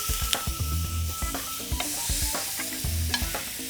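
Steak for a Philly steak sandwich sears in a hot pan, a close steady sizzle with scattered crackles and pops and a few knocks and scrapes of stirring, no voices.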